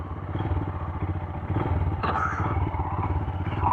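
A Royal Enfield Himalayan motorcycle engine catches and settles into a steady, rumbling low idle, close and loud, with a slight rise in level midway and a brief clatter.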